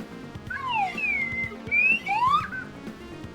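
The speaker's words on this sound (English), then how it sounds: "I have a slide whistle." A slide whistle plays two sweeping glides, the first falling in pitch and the second rising, loud and close, over a faint low background hum.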